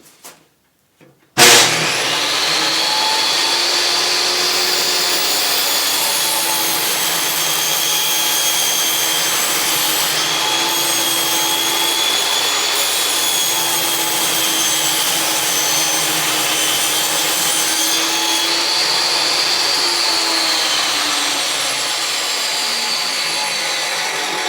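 A power saw bevel-cutting a board of wood with the long side of the bevel against the fence, running loud and steady for over twenty seconds after a sharp start, a continuous broadband whine with slight dips in pitch.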